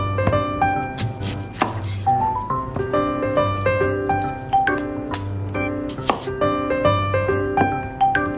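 A knife slicing an onion for chicken curry, steady rhythmic chopping strokes on a board, close and clear over light music.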